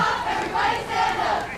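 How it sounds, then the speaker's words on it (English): A high school JV cheer team chants in unison at a football game between San Benito and Bellarmine, two or three swelling shouted phrases carried from a distance over a steady crowd murmur. "You can hear the Haybalers cheer team"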